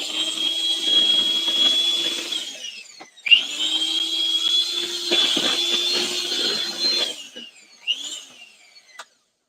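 An electric hand mixer runs on its low setting in a home kitchen, a steady close whirring motor drone that pauses briefly around three seconds, then resumes before winding down with short bursts near the end.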